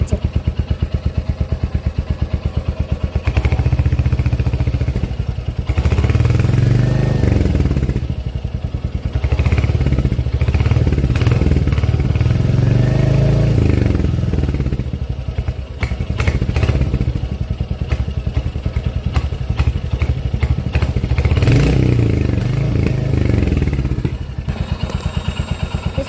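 A motorcycle exhaust idles and revs nearby, a rapid pulsing thump with several loud throttle blips that swell and fall back, then ends in sharp crackles near the close.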